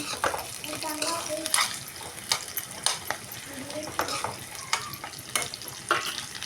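Onions fry in a pan for a village-style chicken fry, a steady sizzle under repeated clinks and scrapes of a spoon against the pan, close by, with a little faint background noise.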